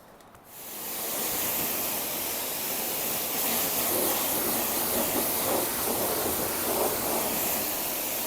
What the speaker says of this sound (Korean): 물 한번 뿌려주면서